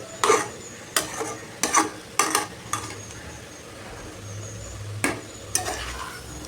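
Ridge gourd stir-fry with grated coconut being stirred in a pan, with intermittent scraping strokes and soft sizzle over a quiet background, no talk.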